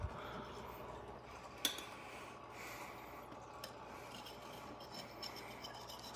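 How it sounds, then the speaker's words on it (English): Scrubbing calcium buildup off aquarium glass with vinegar: a soft, steady rasping rub runs close and faint throughout, with one sharp click partway through. "you're going to start scrubbing, or in a scrubbing motion, to get the calcium off"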